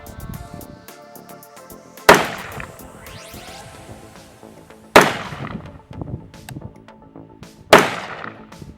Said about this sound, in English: let's shoot our first 3 rounds here, see what kind of grouping we get at 100 yards